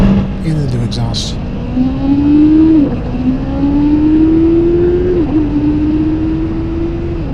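Kawasaki Ninja 500 motorcycle with a JFG Racing slip-on exhaust, engine held at a steady elevated rev with two quick throttle dips, a loud close drone that trails off into a fairly even hum.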